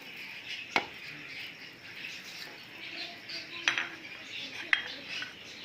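Dry spices, salt, cumin and dried coriander, are tipped into a food chopper, with a few sharp, sparse clinks of a spoon against the bowl over a soft background hiss and no speech.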